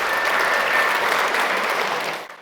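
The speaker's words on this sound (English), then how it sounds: "A round of applause and we just entered the stage." Audience applause fills a festival panel session as the political artist, cartoonist and comedian chair walk onto the stage, a dense, loud wash of clapping that holds steady for about two seconds before breaking off abruptly.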